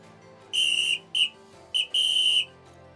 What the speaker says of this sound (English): Do you like the sound of this whistle? It is close to a recorder, I suppose.